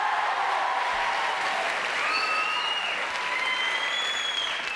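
A television studio audience claps in a sustained, even burst of applause that stays fairly loud throughout, with a few brief whoops or voices rising above the crowd.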